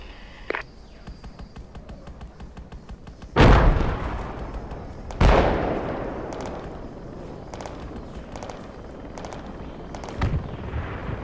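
Artillery fire in the Project Reality military video game: two heavy, close blasts a couple of seconds apart, each with a long rolling rumble, among fainter scattered thumps and distant booms.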